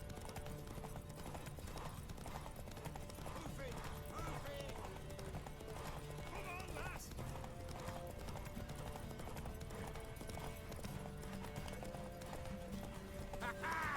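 Horse hooves cantering in The Witcher 3 make a steady clip-clop with an occasional whinny, set under game sounds and a voice talking quietly.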